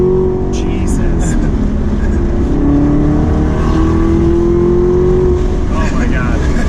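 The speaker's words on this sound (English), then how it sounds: "The supercharger is fucking dope. It's not super loud, not a lot of squeal, but It's got a little squeal though." A supercharged Camaro ZL1 accelerates hard, its engine note climbing steadily and loudly with a slight supercharger whine, heard up close for several seconds.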